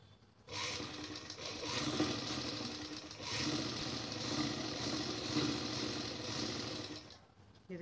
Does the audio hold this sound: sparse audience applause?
no